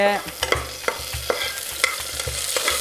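Chopped onions stirred in a frying pan for a tempering, with a quick run of close scraping strokes against the pan over a continuous oily sizzle, fairly loud and without speech.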